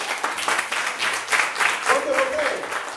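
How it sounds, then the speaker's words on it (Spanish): A church congregation applauding during a Sunday service, steady clapping that carries on under a preacher's voice talking over it. "Vamos, dale un aplauso al Señor."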